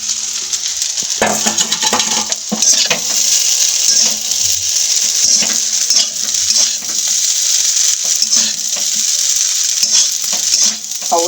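Fried potato and egg are tossed into a wok of pasta, making a loud close sizzle with repeated scraping stirs and metal clatter against the wok.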